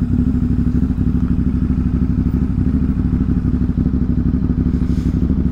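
A motorcycle being ridden on a midday trip toward Manhattan: a loud, continuous engine drone with rhythmic low throbbing and clatter, close up and steady throughout.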